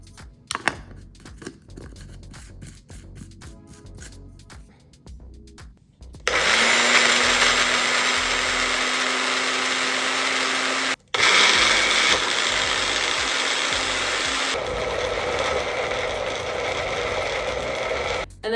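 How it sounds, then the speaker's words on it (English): A small, weak blender whirs loudly and steadily through cheese sauce ingredients for about twelve seconds, cutting out briefly once before starting again, after some light handling clatter. "now we're gonna blend together the cheese sauce ingredients."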